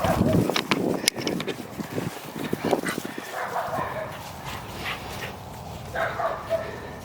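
Dogs play and roughhouse together, with scuffling, short yips and barks, and panting close by. A person talks over the start of the commotion.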